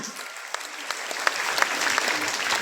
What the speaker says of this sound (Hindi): एक बार जोरदार तालियां आप सभी लोगों के लिए।